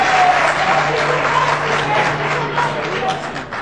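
An audience at a political debate applauds in a loud, dense, continuous patter of clapping that stays fairly even before easing slightly toward the end.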